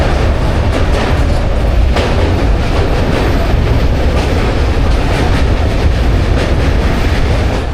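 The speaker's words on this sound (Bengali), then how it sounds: "দক্ষিণেশ্বর স্টেশন থেকে আমাদের ট্রেন ছুটে চলেছে বর্ধমানের দিকে" A passenger train bound from Dakshineswar toward Bardhaman runs loud and close, with a steady roar and rhythmic rattling of wheels over rail joints throughout.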